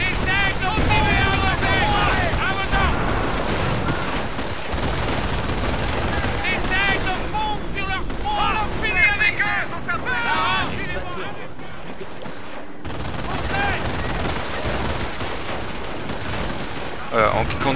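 Machine-gun and rifle fire in a Company of Heroes battle on the Vierville map, loud continuous volleys with heavy explosions and a grenade blast, dense combat noise throughout with a short lull before the shooting resumes.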